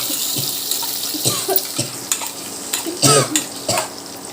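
Ground green chilli paste added to a hot pan and frying, a steady close sizzle with stirring scrapes and clinks against the pan.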